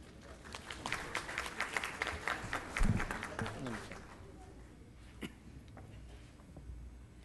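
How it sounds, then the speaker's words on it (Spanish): Audience applause at an international criminal procedure law congress in Lima, a dense burst of clapping filling the first four seconds before fading to a low room murmur. "Lo recibimos con un fuerte aplauso."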